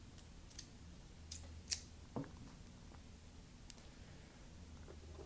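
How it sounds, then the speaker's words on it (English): Scissors snipping excess cotton wick on a Velocity rebuildable atomizer with a nickel coil, a few quiet, separate cuts over a low background hum. "now we can just cut off the bits that are maybe a bit too much"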